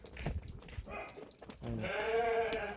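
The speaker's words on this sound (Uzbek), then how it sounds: "Mana qo'ylar hozirdan o'ynayapti." Several sheep bleat close by, first in short broken calls and then one long, loud, wavering bleat that fills the second half, with no talking over it.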